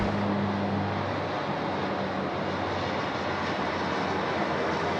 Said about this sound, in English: We'll capture the Dash 8 go because it just looks magic.